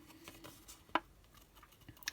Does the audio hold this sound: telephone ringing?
no